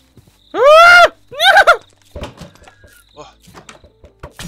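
A man imitates a horse, giving a loud rising-and-falling whinny followed by a second shorter neigh, then quieter clicks, knocks and mumbled talk.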